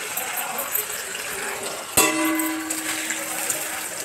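Water pours into a pan holding chana dal in a home kitchen, a steady hissing gush with a sudden splash midway, followed by a faint ringing tone, fairly close and without voices.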